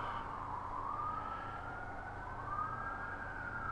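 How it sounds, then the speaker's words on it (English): Emergency vehicle sirens wail at a distance, sweeping up and down over a steady rumble of background noise, faint and continuous with no talk over them. "Sorry about the sirens in the background."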